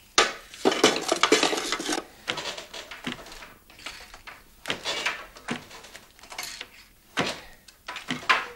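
Clanking metal and wooden knocks come from a cooking pot being stirred in a period kitchen setting, rhythmic scraping bursts repeating every second or so, fairly close, with short pauses between strokes.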